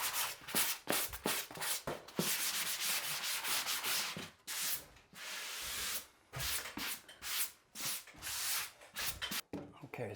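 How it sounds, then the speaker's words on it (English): Drywall corner in a bathroom remodel being lightly hand-sanded, giving repeated close scratchy rubbing strokes in bursts with short pauses, with some talk mixed in. "just lightly sand this corner"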